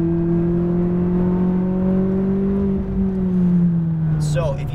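A McLaren 570S engine on a race track holds a loud, steady droning note that sags slightly and then climbs again near the end, close and continuous, with a voice talking over it.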